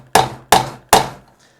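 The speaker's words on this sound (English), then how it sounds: "And then that hammers it down and flattens it out." A hammer strikes a rivet dome being set onto a leather dog leash, three sharp, evenly spaced thwacks that ring briefly and decay, close and alone.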